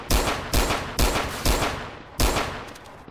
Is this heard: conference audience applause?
no